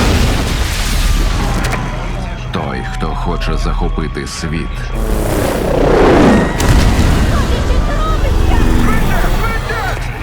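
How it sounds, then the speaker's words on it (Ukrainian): Deep booms and blasts sound amid shifting noise while someone talks over them in Ukrainian, with a larger rumbling burst near the middle, from a film trailer about storming the White House. "Тут стався вибух."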